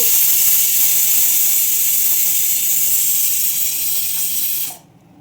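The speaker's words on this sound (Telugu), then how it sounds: "కుక్కర్ విజిల్ వచ్చింది కదా" A pressure cooker vents steam in a steady, loud, close hiss that carries on for several seconds and then cuts off sharply.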